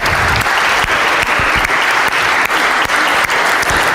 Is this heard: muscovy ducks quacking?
no